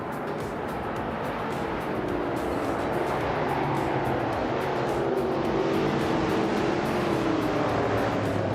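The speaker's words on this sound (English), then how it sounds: "the race kicks off at the Ring Indy track, and leading the pack is Ottilie Artorias" Several race cars roar off the starting line at the Ring Indy track in a racing video game, a dense, continuous engine drone with rising pitch sweeps, loud and steady throughout with no talk.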